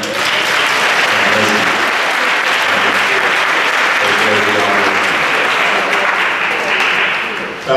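At a church anniversary service, the congregation claps loudly and steadily for the pastor, dense applause mixed with crowd voices that tapers slightly at the end.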